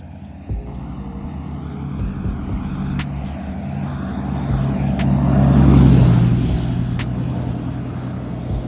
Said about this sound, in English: let me let this car pass by